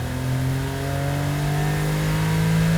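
A Honda Beat car engine revs hard under full throttle at 4,000 RPM, a loud sustained roar with steadily rising pitch.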